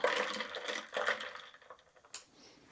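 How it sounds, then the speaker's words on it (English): A cocktail of stinging nettle cordial, lime juice, soda water and ice stirred in a glass, giving a close, continuous swirling and fizzing rattle with light ice clinks that slowly fade. "Another stir to make sure it's all nicely mixed up."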